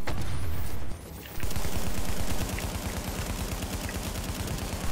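Shotgun fire in a video game firefight against enemies positioned above, with loud, dense repeated blasts forming a rapid, steady barrage that starts after a brief lull and carries on to the end.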